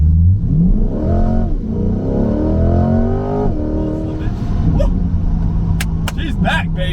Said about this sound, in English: Let's get a little quick 0 to 60